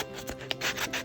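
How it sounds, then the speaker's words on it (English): Sandpaper wrapped around a sanding block rubs over the surface of a homemade tumbler cup in short back-and-forth rasping strokes, close and fairly loud, with no talk. "I'm going to take my sanding block with my sandpaper wrapped all around it. I'm going to go over the entire surface of the cup."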